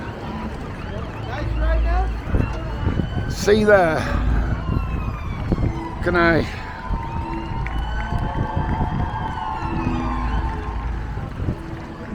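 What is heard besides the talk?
ambulance siren passing in street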